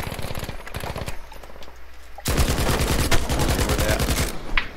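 Rapid automatic gunfire from Battlefield V crackles in fast bursts, a loud stream of shots, a short lull, then a heavier, denser volley of close fire.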